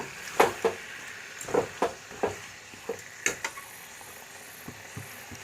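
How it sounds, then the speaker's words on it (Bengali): Chicken frying with spices for a Kolkata-style chicken potato curry is stirred slowly in a pan, with a dozen or so distinct spoon scrapes and knocks spread over a low, steady sizzle. "মাংস সব এতে দিয়ে দেবো, দিয়ে আস্তে আস্তে নাড়তে থাকবো।"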